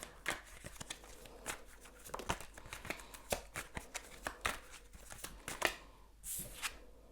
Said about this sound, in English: I'm gonna shuffle and see what the cards have to say